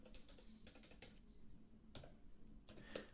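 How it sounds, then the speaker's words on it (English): Quiet, irregular clicks of a computer keyboard as text is typed, short clusters of keystrokes with brief pauses, close but faint. "And you're just typing text."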